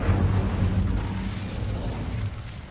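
A fire spell cast in Hogwarts Legacy, a close, rumbling burst that swells at once and roars steadily for about two seconds before thinning out, with low crackling texture throughout.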